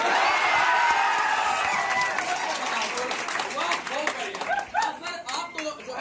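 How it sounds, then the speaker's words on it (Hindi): An audience at a teacher's coaching session breaks into loud, dense clapping with some cheering. It thins into scattered individual claps as voices start talking over it. "अब मेरी खुशियों की कसम, आपको जोरदार ताली बजाना होगा।"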